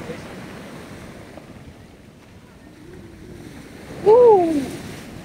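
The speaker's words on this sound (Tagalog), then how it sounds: "Oh, lakas ng alon." Strong surf on a beach at Lobo, Batangas: a steady wash of breaking waves with gusty wind buffeting the microphone, and a brief voiced exclamation near the end.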